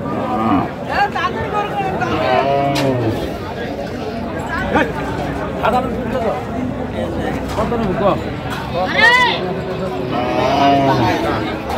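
Cattle at a busy livestock market lowing now and then amid a steady crowd hubbub, with people bargaining and talking nearby throughout.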